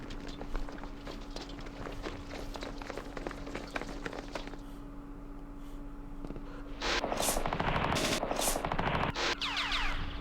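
Machine guns firing in the wargame Campaign Series West Front during Operation Sealion: rapid bursts of crackling gunfire with sharp repeated shots, growing denser and louder in the second half.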